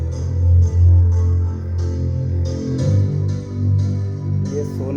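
A Sony woofer plays a sound test, its speakers giving out loud, steady music with a heavy low end and repeated mid and high notes, continuous through the whole stretch.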